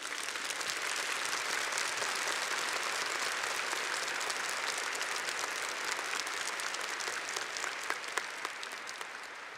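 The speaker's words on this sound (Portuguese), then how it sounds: "nós temos que dar agora um grande aplauso à nossa mãezinha do céu" An audience applauds together in one long, dense burst of clapping that holds steady for about ten seconds. Nobody speaks over it.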